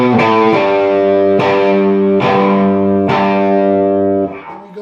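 Distorted electric guitar strikes a heavy chord several times in a rock riff, each hit ringing and decaying before the next, loud and close, with the last hit fading out.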